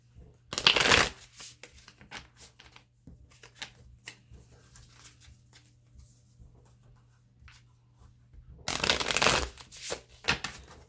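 Light Seers Tarot cards being shuffled in two loud, close riffling bursts at the start and end, with softer card handling and rustling in between.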